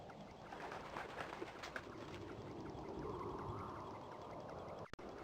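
Pigeons or doves coo softly in a Dreamcast video game, their murmuring calls repeating under a steady background wash, with a brief click near the end.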